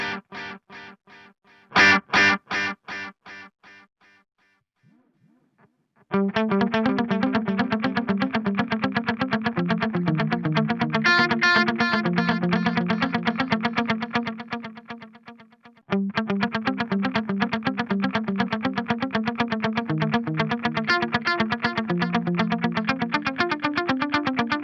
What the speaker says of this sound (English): we'll just have a listen to what this subtle filtering, compression, and expansion does to the basic delay tone